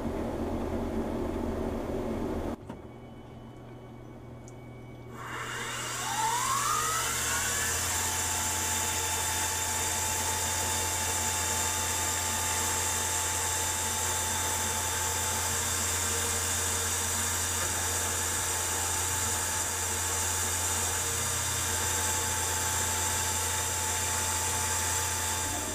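Finish machining passes on an adapter plate for mounting Weber IDF carburetors to a 6-71 blower: a steady high-pitched whine of a spinning cutter that drops out, then spins back up and runs continuously.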